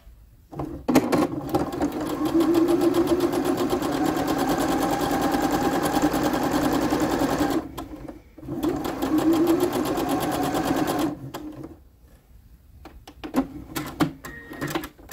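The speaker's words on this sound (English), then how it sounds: "I'm gonna do some sewing." Sewing machine stitching a dress, running in two long steady bursts with pauses between, close and mechanical with a rapid needle rhythm.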